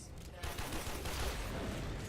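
Dense gunfire and blasts fill a Warframe gameplay session, a continuous loud clatter of rapid shots that starts abruptly and stays dense for about two seconds.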